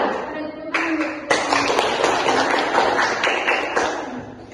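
A classroom of students claps a patterned rhythm together, sharp bursts of unison claps that build into a sustained patter before breaking off, with a few voices faintly audible.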